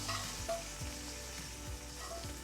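Green pigeon peas for a tuvar-and-brinjal curry sizzle steadily in hot tempering oil, a dense close crackle with a few brief sharper spits and stirring scrapes, no voices.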